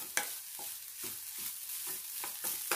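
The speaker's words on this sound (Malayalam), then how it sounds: "അതിന് ഇത് ഒന്ന് നമുക്ക് ഇളക്കി കൊടുത്ത് ചെറുതീയിൽ വെച്ച് തന്നെ ഒന്ന് മൂപ്പിച്ചെടുക്കാം." A coconut mixture fries in ghee over a low flame for bitter gourd thoran. A spoon scrapes through it in a steady rhythm, about twice a second, over a soft, quiet sizzle.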